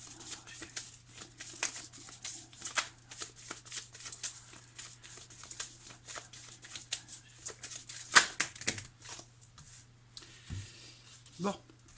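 Tarot cards shuffled repeatedly by hand, a dense run of soft riffling slaps and flicks throughout, with a few louder snaps near the end over a steady low background hum.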